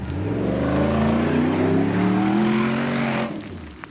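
A Jeep Gladiator with a Magnaflow Rock Crawler off-road exhaust revs up and holds a rising, throaty note for a few seconds before dropping off abruptly, loud and close with no voices.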